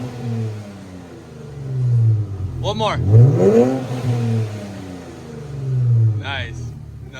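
An Infiniti Q50 with a newly installed exhaust idles with a deep burble, then is revved up sharply once before settling back, close by, while people talk around it.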